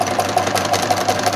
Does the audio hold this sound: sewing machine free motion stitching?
yes